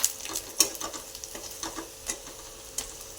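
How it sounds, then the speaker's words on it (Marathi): Chopped onion sizzles in a hot pan while a spoon stirs it, giving a steady close crackle broken by sharp scraping taps against the pan. "कांदा छान लाल होईपर्यंत आपण भाजून घेणार आहे"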